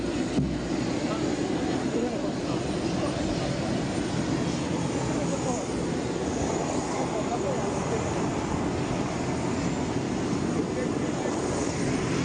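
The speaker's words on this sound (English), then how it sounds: "They will wait till the plane actually lifts off." The papal aircraft at Jackson's International Airport in Papua New Guinea gives a steady, loud engine roar sustained throughout, with a broadcaster's voice faintly underneath.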